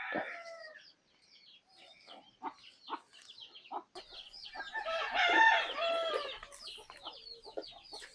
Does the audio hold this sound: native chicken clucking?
yes